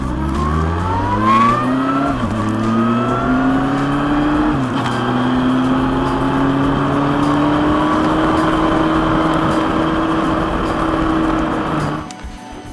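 A Kawasaki Concours 14 sport-touring motorcycle engine revs up hard and holds high RPM, its pitch climbing steadily across a long, loud, sustained run before easing off at the end.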